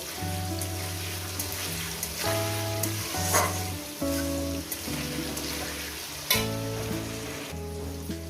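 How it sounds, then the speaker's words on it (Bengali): Potatoes frying in a pan with salt added, a steady close sizzle running throughout while a soft musical backing plays over it and no one speaks. "এটাকে আমি ভালো সুন্দর করে মিনিমাম চার পাঁচ মিনিট ধরে আলুটাকে আমি ভেজে নেব"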